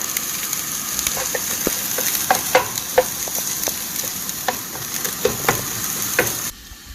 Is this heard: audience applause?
no